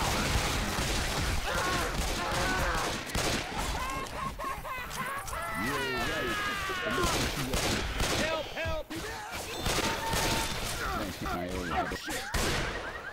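Gunfire from the Left 4 Dead video game rattles in rapid, dense bursts, loud and continuous with a few brief pauses and crashing impacts, while players talk over the shooting.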